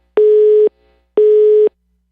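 Busy signal on a failing telephone line: two loud, identical steady beeps about half a second long each, separated by a pause, heard alone.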